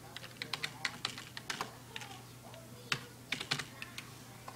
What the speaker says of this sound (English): if I type it in the box